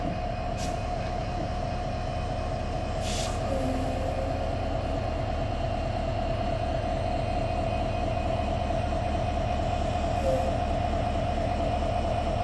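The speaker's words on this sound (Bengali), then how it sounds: "সেই লোকোটা এখন এদিক দিয়ে ঘুরে আসতেছে" Rangpur Express locomotive running around the train during reversal at a station, a steady rumbling drone with a sustained tonal hum, continuous and moderately loud throughout.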